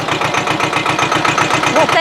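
A tractor engine chugs close by in a rapid, even rhythm, running loud and continuous while people talk over it.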